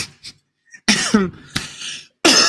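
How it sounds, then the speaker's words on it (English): Several sharp coughs close up, three or four separate bursts with short pauses between them, fairly loud. "I've had this cough I've been fighting off"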